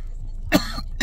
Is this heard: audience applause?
no